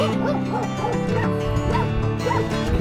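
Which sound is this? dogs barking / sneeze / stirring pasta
dogs barking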